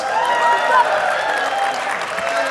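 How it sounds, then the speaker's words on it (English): Audience applause and cheering at a fan convention panel, a steady, dense wash of clapping and crowd noise filling the whole stretch with some voices mixed in. "Cheer him on. Cheer him on. Cheer him on."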